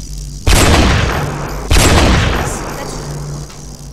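Two heavy, booming gunshots in the Roblox game Black Ops 3 Tycoon, each loud and close with a long decaying tail, spaced about a second apart.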